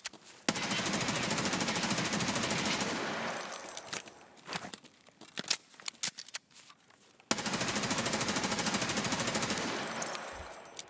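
Full-auto bursts from a gun in the shooter game Escape from Tarkov on the Shoreline map, two long sustained magazine dumps, loud and close, with scattered single shots and clatter in between.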